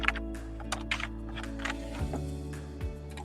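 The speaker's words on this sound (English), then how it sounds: "You can also type in partial serial numbers." Quick bursts of keystrokes on a computer keyboard as partial serial numbers are entered into sales-order software, moderately close clicks over a steady electrical hum.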